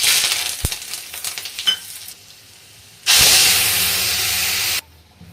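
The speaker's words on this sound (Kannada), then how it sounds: "ಒಗ್ಗರಣೆಗೆ ಸಾಸಿವೆ, ಜೀರಿಗೆ, ಹಿಂಗು, ಕರಿಬೇವಿನ ಸೊಪ್ಪು ಮತ್ತು ಬ್ಯಾಡಗಿ ಮೆಣಸಿನ್ಕಾಯಿ ಹಾಕ್ಕೊಳ್ತಾ ಇದ್ದೀನಿ." A tempering of mustard seeds, cumin, asafoetida, curry leaves and Byadgi chillies dropped into hot oil for okra sambar: crackling pops at first, then a loud, sustained hissing sizzle lasting nearly two seconds before cutting off.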